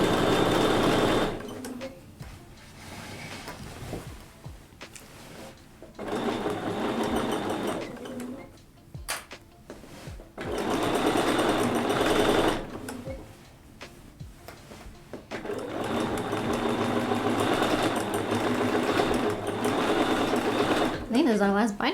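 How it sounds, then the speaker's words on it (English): Quilt binding is stitched on a sewing machine in three long, fast runs of steady mechanical whirring, separated by short pauses and nearby handling noises. "Speed sewing, speed sewing."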